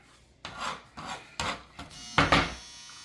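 Board scraper dragged across a kitchen board in five separate scrapes, each a short, close, harsh rasping stroke, with the last ones louder and a brief pause before each, no talk.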